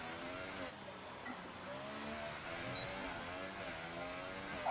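A Formula 1 race car from the F1 2018 video game on a quick qualifying lap at Monaco, its engine a steady high whine that shifts pitch with gear changes, continuous and unbroken, with no talking.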